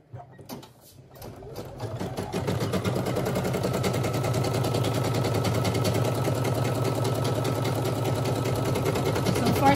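A Brother SE1900 embroidery machine stitches a design onto a dog leash, starting with a few clicks before settling into a fast, steady mechanical needle rattle that stays close and even.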